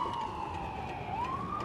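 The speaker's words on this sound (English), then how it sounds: "Oh, okay, it's ambulance." An ambulance siren wails loud and steady, its pitch sliding down then rising again as it passes nearby, heard alone with no talk.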